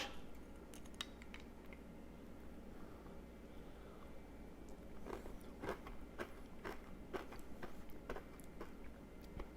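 The caramelized brown sugar crust of a chocolate crème brûlée is cracked and crunched in a few faint, close, brittle clicks clustered together, with no talking.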